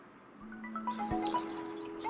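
Water poured into flour batter for Kozhikodan chicken chatti pathiri, a short quiet trickle and drip in a kitchen, close and soft with no talking.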